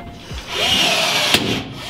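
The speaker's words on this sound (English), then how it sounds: "and then the rivet goes down inside there perfectly like that, and then just rivet it on." A rivet tool fastens a truck camper sleeping platform: a brief mechanical whir builds, then one sharp snap as the rivet sets, close and fairly loud with no talking.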